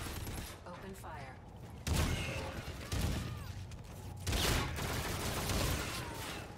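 Rapid gunfire rattles through a multiplayer shooter game in bursts of overlapping shots, loud and dense, with layered game effects and voice callouts in the mix.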